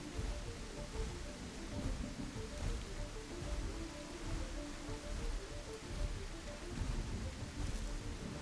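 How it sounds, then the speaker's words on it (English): Rain falls in The Isle video game as a dense, even hiss with soft patter, low and steady throughout without any voices. "at least the rain was masking all the noise I was making."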